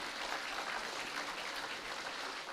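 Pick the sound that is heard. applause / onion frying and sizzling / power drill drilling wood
applause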